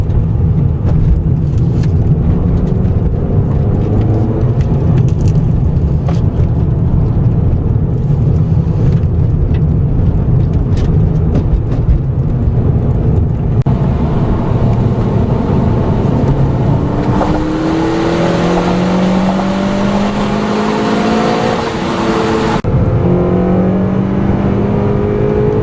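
A 2015 Honda Civic Si with a high-revving 7,000 RPM engine and six-speed manual drives a country road, its engine droning and climbing through revs with rising and falling pitch sweeps, loud and continuous, with a brief shift partway.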